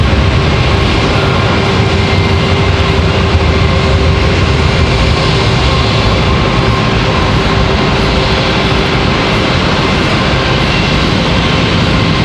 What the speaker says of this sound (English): Speaking of Blue, JetBlue. There goes our departure.